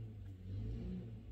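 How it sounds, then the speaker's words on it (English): A neighbor's lawnmower engine revs nearby, heard as a faint, steady low drone that swells slightly midway, with no voices. "He's just revving his lawnmower."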